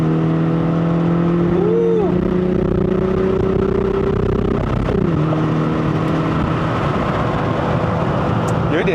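Honda Fit RS GK5 with six-speed manual and VTEC engine pulling hard on a mountain road, a loud sustained engine drone whose pitch climbs and shifts, with voices faintly in the cabin.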